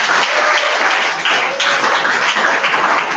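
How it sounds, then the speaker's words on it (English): Steady applause from an audience at a student industrial work orientation, a dense even wash of clapping that holds loud throughout with no pauses. "Give him a round of applause."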